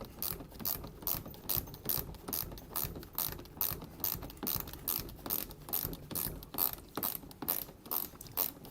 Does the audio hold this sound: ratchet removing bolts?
yes